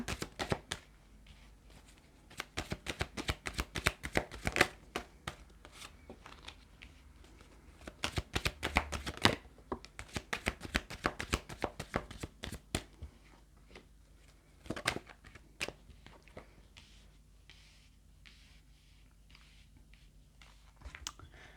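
Tarot cards shuffled close up for a reading, in quick papery riffling bursts that come in clusters with short pauses between them, fading to sparse taps toward the end, with no voices.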